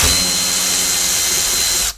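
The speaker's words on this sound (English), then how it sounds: "I will also undo those upper bolts" A power tool whirs steadily and loudly up close while undoing the upper bolts on a Mercedes CLK W209 dashboard, then cuts off abruptly at the end.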